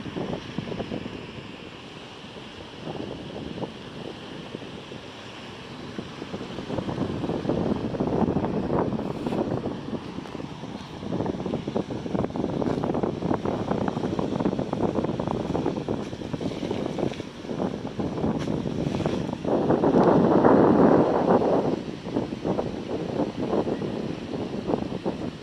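Wind and surf at a cloudy, breezy beach in Padang, a steady broad roar of breaking waves with gusty wind buffeting the microphone, swelling louder toward the end, no voices.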